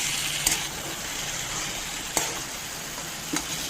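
Pumpkin pieces and vegetables sizzle in hot oil, a steady frying hiss broken by three sharp clinks as pieces are lifted out with a utensil.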